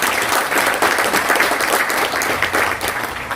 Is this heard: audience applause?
yes